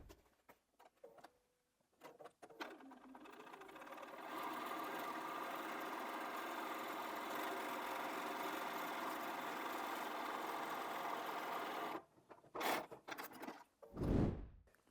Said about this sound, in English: I'm going to take that to the machine and I'm just going to top stitch along that edge to hold that down